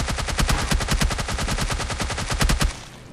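Rapid automatic gunfire in the mobile battle royale game PUBG Mobile Lite, a loud continuous burst of evenly spaced shots lasting a few seconds before cutting off.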